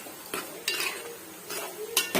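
A spoon stirs and scrapes a mushroom fry in a metal pan, several distinct clinks and scrapes spaced irregularly, close by with a faint sizzle underneath and no talking.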